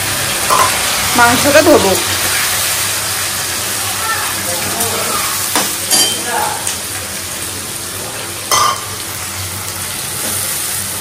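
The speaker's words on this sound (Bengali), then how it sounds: "তো পেঁয়াজটা ভাজতে চাপিয়ে দিই" Sliced onion sizzles steadily in a hot pan for a home-cooked Bengali meal, a constant frying hiss with occasional stirring clatter, while a person speaks over it.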